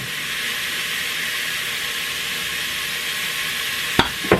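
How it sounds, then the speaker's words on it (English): Nacho topping sizzles in a Presto electric kettle, a steady, close, bright hiss of frying that continues unbroken, ending with two short clacks; no speech. "I'm going to let that sizzle."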